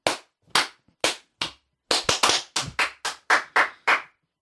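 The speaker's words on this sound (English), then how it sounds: "These are perfect claps." Hand claps, about a dozen sharp separate smacks, close and loud, spaced irregularly with short silences between them, ending with a quicker run of claps.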